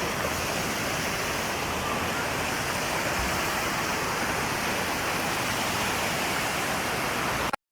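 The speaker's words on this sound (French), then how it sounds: "sortir sous la pluie pour aller voir la dernière cascade de Pliv" A waterfall at Pliva pours down in the rain, a steady, loud, unbroken roar of rushing water that fills the whole stretch with no voices.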